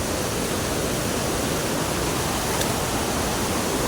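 Deep floodwater, risen to knee height past houses, flows with a loud, continuous, close roar that holds steady throughout.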